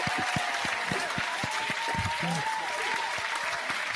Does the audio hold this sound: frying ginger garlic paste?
no